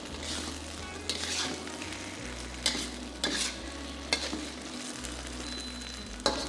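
Fish fillet with the green parts of spring onions stir-fried in a pan, a steady close sizzle broken by several sharp scrapes and clatters of the spatula against the pan.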